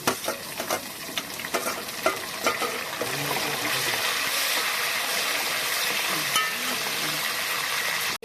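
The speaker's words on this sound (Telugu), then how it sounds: "ఇప్పుడు టమాటాలు వేస్తాం." Tomatoes land in a hot frying pan while upma is being made, and a few clattering stirs give way to a loud, steady sizzle close by, with no talking.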